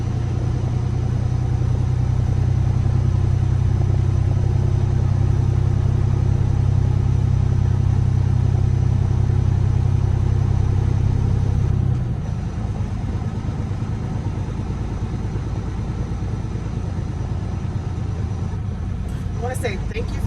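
Trucks roll through a mill gate used for fuel, bark and chips, their engines giving a loud, steady rumble that drops to a lower, rougher drone partway through.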